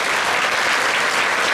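A dense, steady wash of audience applause fills the hall at a uniform show for public services during Fashion Week Poland 2015, loud and unbroken from start to finish.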